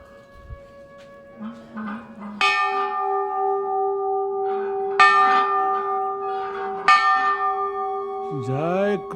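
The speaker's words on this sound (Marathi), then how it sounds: "घंटानाद" A temple bell rings in several loud, resonant strikes spaced a few seconds apart during a Narmada river pilgrimage, each strike leaving a long ringing tail, with chanting voices and a brief higher tonal sound near the end.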